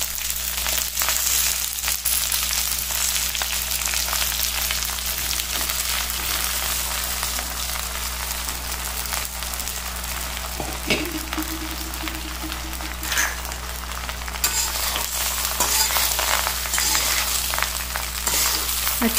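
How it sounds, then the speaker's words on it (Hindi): A semolina and yogurt mixture with coriander leaves stirred in a hot pan with very little oil, giving a dense, continuous hiss and soft sizzle throughout, close and even in level. "अच्छी तरह से मिला लेंगे।"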